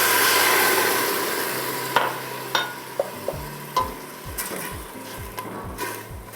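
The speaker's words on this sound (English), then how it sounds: "we're gonna put in about a half cup of white wine" White wine hits a hot pan of onion, garlic and olive oil, a loud sizzle that fades as cooking settles, broken by sharp clacks and scrapes of stirring.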